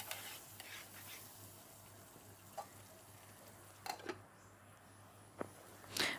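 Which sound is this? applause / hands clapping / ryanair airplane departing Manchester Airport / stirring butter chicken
stirring butter chicken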